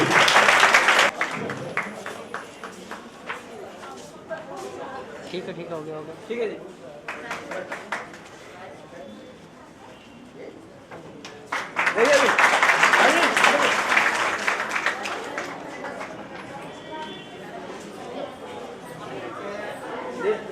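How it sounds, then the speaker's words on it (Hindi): An audience at a retirement ceremony bursts into loud applause in two waves, the first brief and the second longer and stronger, with someone speaking briefly over the quieter gap in between. "सभी तालियां बजाकर जोरदार तरीके से"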